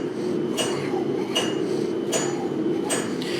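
Hammer blows on a steel bar being forged at a decorative-forging hammer-in, fullering down one half, four evenly spaced ringing strikes about three-quarters of a second apart over a steady droning background.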